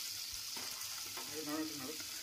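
Fish sizzles and crackles in a pan with salt and turmeric, a steady close frying hiss with a few louder spits and a brief stir.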